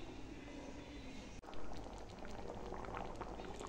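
Vegetarian curry broth with potatoes and taro simmering in a pot, a soft continuous bubbling with small pops, briefly interrupted by a sharp clunk before the bubbling resumes slightly louder.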